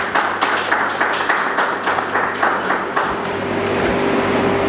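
Audience at a modest honorary ceremony for a Congolese national deputy clapping in a steady rhythmic applause, fairly loud and close, with a faint hum underneath.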